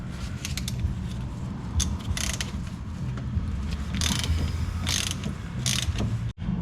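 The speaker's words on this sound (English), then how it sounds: "there's a 1/2 inch nut that you need to undo" A ratchet loosening a 1/2 inch nut on the steering U-joint of a first-generation Cummins truck, steady close clicking with periodic louder ratcheting strokes, no talking.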